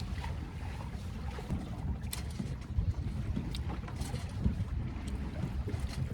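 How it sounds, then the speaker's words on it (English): Wind rushes over a small motor-equipped sailboat out on a chilly sea, a continuous low buffeting roar with gusty swells and faint water slaps; nobody speaks. "The wind slowed down a little bit"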